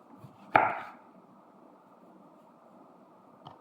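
A kitchen knife cuts through a tomato for an Arabic salad with one crisp, close chop against a board, followed by quiet room hiss and a faint second tap near the end.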